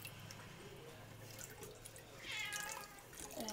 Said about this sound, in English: there's one of my cats in the background who should be asleep now and not bugging me